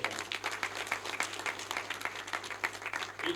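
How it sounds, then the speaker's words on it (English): A crowd claps steadily in a brief round of applause at a taxpayers awards ceremony in The Gambia, many hands close together at moderate volume with no talking. "Please give him a round of applause for that."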